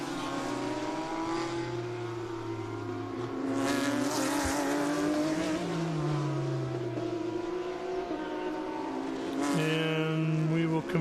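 KTM GT4 race car driving on track at VIR, its engine droning and shifting pitch through the gears with a tire squeal, heard under the faint tones of other cars.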